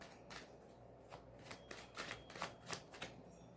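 A deck of oracle cards is shuffled by hand, close and soft, with a run of quick riffling bursts over a few seconds in a quiet room.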